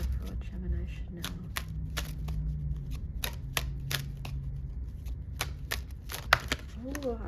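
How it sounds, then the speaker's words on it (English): Tarot cards being shuffled and handled during a love reading, giving repeated crisp riffling snaps and taps over a steady low background hum, with someone speaking quietly between them. "I'm just gonna pull one more card"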